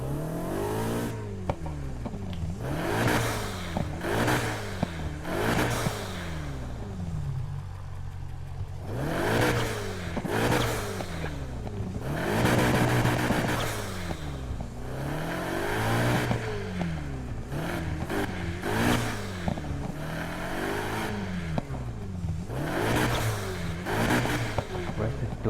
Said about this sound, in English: The exhaust with little overrun.